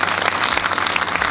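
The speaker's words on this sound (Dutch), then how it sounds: "Applaus." A school audience at a Markland College certification event claps briefly after a student recites the Greek alphabet, a close, even burst of many hands.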